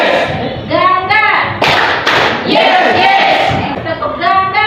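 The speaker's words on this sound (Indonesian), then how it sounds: "Ganda." A classroom of students claps in unison twice in quick succession, two sharp broadband bursts about half a second apart, surrounded by children's and a teacher's voices talking and calling out.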